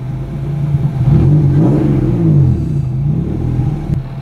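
A BMW M50B30 3-litre stroker turbo engine idles steadily up close, then revs up and settles back, with a deep, continuous low rumble and a brief rise in pitch around the middle.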